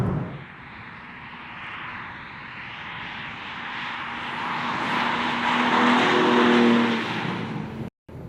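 Inside the cabin of a sixth-generation BMW M3 Competition sport sedan, a steady engine drone rises into a louder, building roar toward the end, with tire and road rumble beneath. No one speaks.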